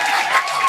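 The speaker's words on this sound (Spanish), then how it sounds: "así que denle otro aplauso" An audience at a church pastors' anniversary gathering applauds, a dense, even wash of clapping from many hands held steady for a brief moment.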